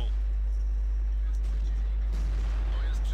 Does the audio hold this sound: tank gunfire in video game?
yes